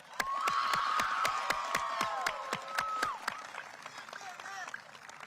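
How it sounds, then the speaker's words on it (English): A crowd applauds at a high school graduation ceremony, with steady clapping and scattered cheers, while a voice stays audible throughout. "so please give them a round of applause."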